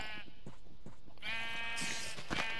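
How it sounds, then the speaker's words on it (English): Minecraft sheep bleating several times in quick succession, clear and close, each cry a short wavering baa. "And there's my little grey sheep there"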